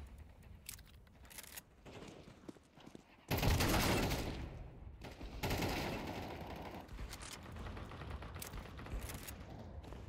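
A Nova shotgun firing in Counter-Strike 2, with a sharp, loud blast near the middle and another burst shortly after, set against quieter background game noise.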